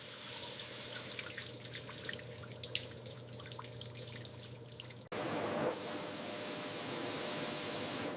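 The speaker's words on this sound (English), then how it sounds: "Slices are rinsed again to remove starch." Water rinsing potato slices in a chip factory, a steady wet hiss and trickle with scattered drips that abruptly jumps to a louder, fuller rush partway through.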